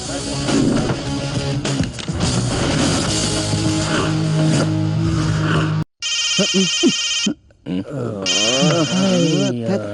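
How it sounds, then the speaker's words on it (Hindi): A telephone rings in a Hindi-dubbed action film scene, a repeating electronic ring in bursts with short gaps, loud, following a stretch of music and voices. "भट्ट का फोन है, बात क्या है पूछ।"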